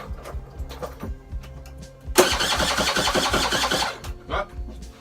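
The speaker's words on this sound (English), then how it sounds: "let me give it one kick to see if it turns over" A Genuine Scooters Roughhouse RH50 scooter is kicked over from cold and bursts into a loud, rough buzzing run for about two seconds before dying back to quieter low thumps.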